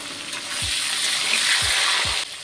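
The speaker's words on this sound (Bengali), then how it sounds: "এখন এই তেলের মধ্যেই আমি পটলগুলোকে একটু ভেজে নেব।" Long-sliced pointed gourd frying in oil left over from fried fish, giving a loud, steady, dense sizzle with a few soft knocks of utensils, close by.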